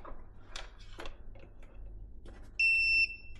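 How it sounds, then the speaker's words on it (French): An Aiper Scuba SE pool robot gives a single sustained electronic beep of about half a second while charging, clear and close after some faint handling noises. "Ah, il vient de faire un bip."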